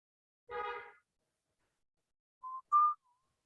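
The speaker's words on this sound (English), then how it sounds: "Someone is whistling." A person whistles in a quiet room: one short, wavering whistle, a pause, then two brief clear notes close together, soft and near with no voices.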